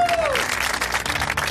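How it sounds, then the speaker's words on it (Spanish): A group claps and applauds for a moment at the end of a game show round, the clapping steady and fairly close while someone talks over it. "O sea que realmente también os merecéis un aplauso."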